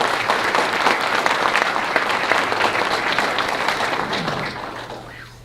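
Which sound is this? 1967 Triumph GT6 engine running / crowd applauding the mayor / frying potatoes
crowd applauding the mayor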